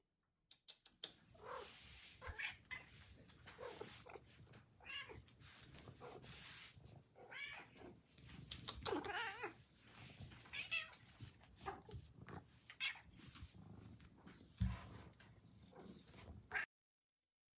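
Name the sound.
recorded clip of a cat meowing loudly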